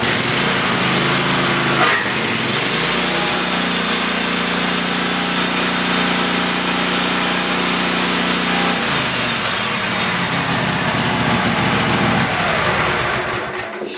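A Wood-Mizer LT15GO portable sawmill running loud and close, its engine droning steadily while the blade cuts through wood, the tone dropping into a lower, heavier pitch under load for several seconds before rising again.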